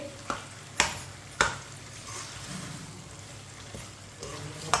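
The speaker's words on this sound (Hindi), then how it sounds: "1 मिनट के लिए इसी तरह चम्मच चला लेंगे।" A spoon stirs semolina halwa in a pan over a switched-off stove, scraping and knocking against the metal in several sharp strokes over a faint sizzle, near and quiet between strokes.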